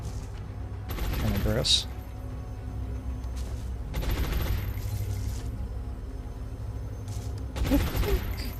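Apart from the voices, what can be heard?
mech unit firing its weapon in the video game XCOM: Long War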